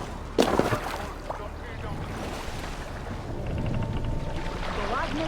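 A longship sails in Assassin's Creed Valhalla, with wind rushing and waves washing against the hull, a sharp creak or splash near the start, and voices speaking over the steady sea noise.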